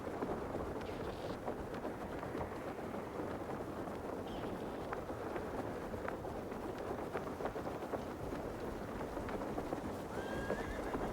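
Video game horse hooves clip-clop steadily over a windy, rumbling background, with an occasional neigh rising faintly above the noise, from Crimson Desert.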